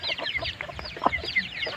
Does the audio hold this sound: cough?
no